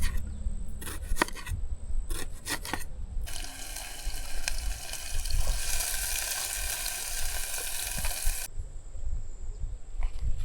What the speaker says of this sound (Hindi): भाई क्या ही प्यारा वाटरफॉल आ रहा है ऊपर से एकदम